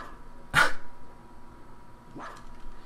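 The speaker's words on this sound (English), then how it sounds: "I'm barking for you." A dog barks in a video game, one loud bark near the start and a second, fainter one about a second and a half later, over quiet background.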